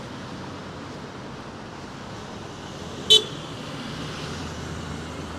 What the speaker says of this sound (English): That car just honked at me.